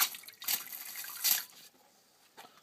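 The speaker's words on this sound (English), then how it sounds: "Okay, I'll just put the water in there." Water poured into a tarantula enclosure, likely a Theraphosa blondi or Brachypelma smithi, making a few quiet splashing, trickling bursts that fade to near silence, with no talking.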